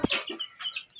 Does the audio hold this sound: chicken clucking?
yes